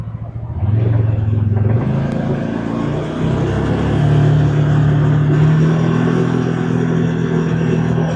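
A BigHorn Denali 1000 APEX side-by-side UTV accelerates hard and holds speed, its engine droning loud and steady with a rising pitch and a rough mechanical rumble close by, with no talk.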